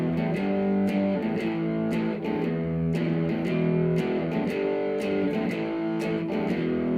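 Distorted electric guitar strums a partial cheater chord in a steady repeating rhythm, the chord ringing loud and sustained with sharp pick attacks recurring roughly every second, played alone without talk.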